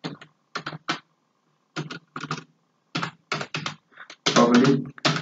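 Code typed on a computer keyboard comes through as short clustered bursts of close key clatter separated by pauses, ending in a denser, louder run of keystrokes.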